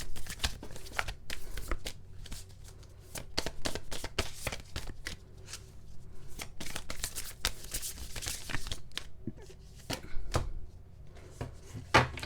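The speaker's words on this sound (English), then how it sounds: "Let's go ahead and pull one more card." Tarot cards being shuffled and pulled during a Valentine's Day pick-a-card reading, producing a steady run of close, crisp flicking and riffling with sharper snaps scattered throughout.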